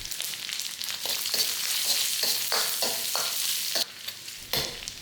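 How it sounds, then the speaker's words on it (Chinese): Dried shrimp and ginger slices stir-fried in hot oil in a home kitchen wok, giving a steady loud sizzle broken by repeated scraping stirs of the spatula, with no voices. "先加入适量的油，然后虾米先进来爆香。"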